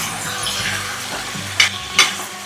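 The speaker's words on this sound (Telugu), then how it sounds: "అల్లం వెల్లుల్లి పేస్ట్ వేస్తున్నాను ఇప్పుడు ఇదంతా బాగా కలిపేలాగా కలుపుకోవాలి" Ginger garlic paste sizzles in hot oil in a pan while being stirred, a close crackling fry with scraping strokes and two sharp metallic clinks near the end.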